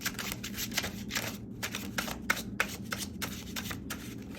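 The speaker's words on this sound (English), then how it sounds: "I need to shuffle these cards better, so I'm just gonna do that." A deck of tarot cards being shuffled by hand, a steady run of crisp riffling bursts with brief pauses between them, close and fairly quiet with no talking.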